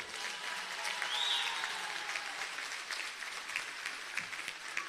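Applause from a crowd at a provincial rally, dense and sustained clapping for the full length, fairly loud and even with no break.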